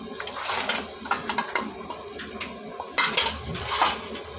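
Crabs tipped into a pan and stirred for a Bengali spicy crab dish, giving close clattering metal-on-pan scrapes and knocks in irregular bursts, with no talk.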